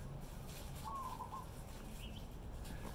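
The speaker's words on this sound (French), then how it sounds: "La petite colombe." A small dove coos in a Tahiti courtyard, a soft, brief call that rises once out of steady low background noise. A second faint call follows near the end.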